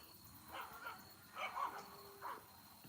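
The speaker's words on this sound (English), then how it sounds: "Can y'all hear the dogs?" Playful dogs barking and yipping outdoors at dusk on a homestead, a few distant yelps in short bursts spread across the moment, fairly faint against a quiet background.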